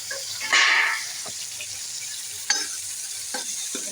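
Onions frying in hot oil with cumin and tomato, a loud close sizzle that flares up as they go into the pan, then settles into a steady hiss broken by a few stirring scrapes.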